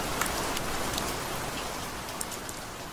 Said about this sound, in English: If I play that rain again and then trigger the fade cue.